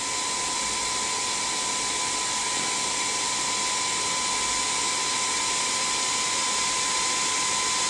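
A Philips Active Cool 1650 HP3462 hair dryer runs on its low heat setting, giving a steady, loud whirring blow with an even high-pitched whine that never changes and no voices over it.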